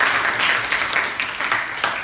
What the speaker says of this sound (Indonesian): Di aplaus untuk kelompok 2.